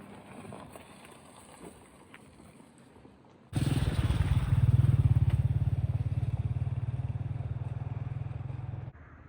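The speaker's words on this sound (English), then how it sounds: "He is here by his motorbike." A motorbike engine idles close by on a farm road in Tengchong, Yunnan, China, starting suddenly as a loud, steady low rumble with fast regular pulsing that runs for several seconds before cutting off.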